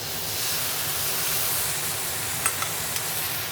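Shrimp fry in a hot pan with a steady, hissing sizzle, close and even, with a few small clicks of a utensil near the end.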